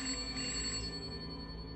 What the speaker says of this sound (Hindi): ये किसका फोन हो सकता है?